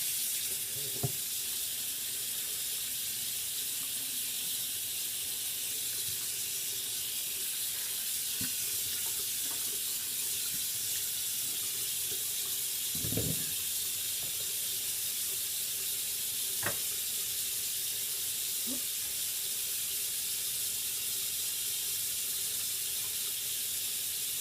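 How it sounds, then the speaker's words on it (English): Tap water runs steadily into a sink while someone washes their face, a constant hiss with occasional soft splashes and drips, close and alone without talk. "I'm going to wash my face now."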